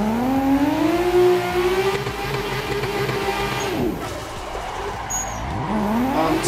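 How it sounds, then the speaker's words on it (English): A racing car in a video game drives hard, its engine tone rising and falling with a brief tire squeal as the wheels spin through a tight corner, loud and continuous. "Spin the tires, man."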